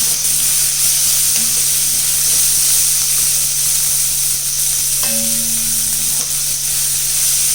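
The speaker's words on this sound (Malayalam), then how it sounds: "ക്യാബേജും ചെറുതായിട്ടൊന്ന് വാട്ടിയെടുക്കാം." Cabbage sautéing in a hot pan for fried chicken rice, a steady loud sizzle running throughout with a few brief stirring clinks, no voices.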